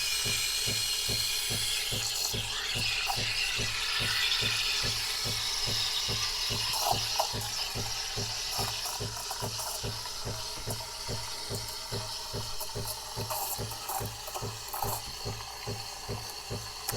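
The pump of a Breville Barista Pro espresso machine runs during milk steaming, a fast, even mechanical pulsing hum under a soft hiss of water and steam, moderately quiet and steady throughout.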